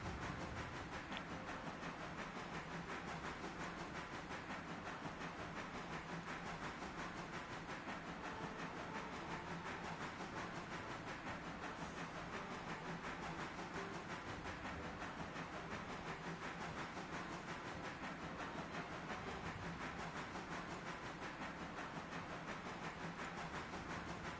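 A steam locomotive in the train game Railroader runs along the tracks in poor weather, giving a faint, steady hiss and rumble with no clear breaks.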